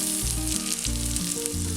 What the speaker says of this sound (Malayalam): ഇതിലേക്ക് ഒരു വലിയ സവാള നീളത്തിലരിഞ്ഞത് ഇട്ട് കൊടുക്കാം